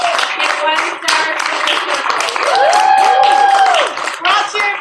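Brisk clapping from a small group cheering a team member, steady and fairly close throughout, with excited voices talking and a sustained whoop or cheer over the middle.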